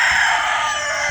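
A chicken crows loud and close in one sustained, strained call that fills the whole brief moment, with no other sounds over it.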